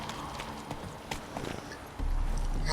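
A horse gallops in The Witcher 3 video game, rapid clip-clop hoofbeats running steadily at close range, picking up into a louder rush of movement in the last second.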